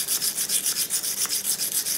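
Grafting knife blade stroked across a dry coarse whetstone, giving a steady run of gritty rasping passes in a quick, even back-and-forth rhythm, close and fairly loud with no talking.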